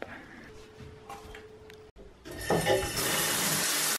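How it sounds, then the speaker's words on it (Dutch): Bathroom shower turned on: after quiet handling noises and a brief tone, water bursts into a steady loud rushing spray that continues to the end. "dus ik ga nu even heerlijk douchen"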